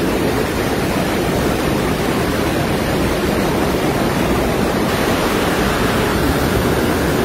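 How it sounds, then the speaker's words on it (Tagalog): A waterfall at a lake rushes in a loud, unbroken roar of falling water, steady and close with no other sounds above it. "Ito na ako sa bagsakan ng tubig"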